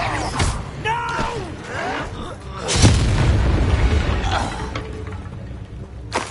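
A voice shouts early on, then the Incendio fire spell in Hogwarts Legacy goes off as a loud, close burst of flame. The blast is followed by several seconds of rumbling crackle that slowly fades out.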